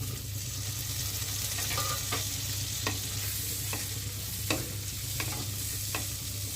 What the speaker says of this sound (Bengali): দিয়ে এবার বাটার আর তেলের সাথে ভালোভাবে ভেজে নিচ্ছি।